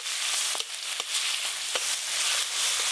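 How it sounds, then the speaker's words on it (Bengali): Ground turmeric and chili paste with black cumin tempering sizzling in hot oil for a hilsa fish curry, a steady close hiss with faint stirring clicks and no voices. "বাটা মশলা আর ফোড়ন একসঙ্গে একটু নেড়ে নিয়েছি গরম তেলে।"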